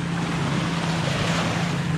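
Waves wash continuously onto a beach at Torch Lake, with a steady surf roar mixed with wind buffeting the microphone, fairly close, with no voices.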